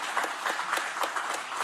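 A church congregation applauds in thanks during a service marking a new pastor's installation, a steady wash of many hands clapping with a few sharper claps standing out, fairly faint and distant.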